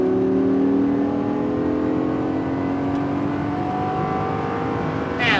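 A Lamborghini Gallardo LP560-4 accelerates hard on a racetrack, its engine note climbing steadily in pitch through one long, loud pull with no gear change, heard from inside the car.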